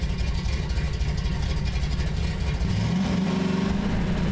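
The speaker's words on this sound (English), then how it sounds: "I took an incredibly noisy and loud car" A noisy, loud car engine in Half-Life 2 drones steadily and close throughout, with a rising rev near the end.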